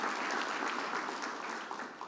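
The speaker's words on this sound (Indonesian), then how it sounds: "Berikan tepuk tangan buat Tuhan yang berdaulat." A church congregation claps steadily, a dense wash of applause that stays loud and slowly tapers off by the end.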